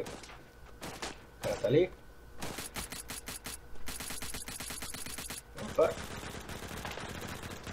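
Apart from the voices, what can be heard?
gunfire from the video game Badlanders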